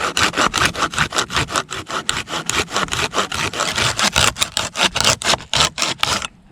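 Hand saw cutting through birch wood at a forest camp, a fast, steady rhythm of rasping back-and-forth strokes, loud and close, continuing for several seconds without any talking.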